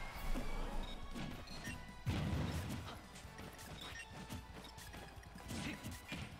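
Hard smash and whack impacts from a Super Smash Bros. Ultimate match between Game & Watch and Cloud, with a loud crashing hit near the two-second mark among repeated punchy game thuds over steady background noise.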